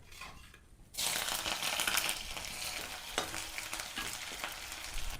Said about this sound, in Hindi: अब हम डालेंगे प्याज।